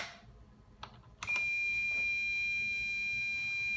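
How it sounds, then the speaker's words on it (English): After a few faint clicks, a steady high-pitched electronic beep from an IBM PS/2 Model 25 computer speaker comes on and holds continuously, thin and piercing, with no talk. "It says happy birthday and beeps constantly."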